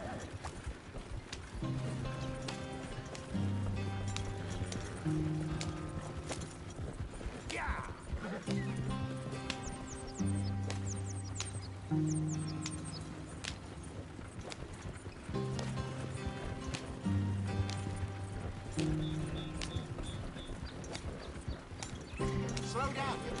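Horses gallop in the video game Red Dead Redemption 2, a steady rhythmic hoofbeat running throughout with a whinny and a tonal music score layered over it.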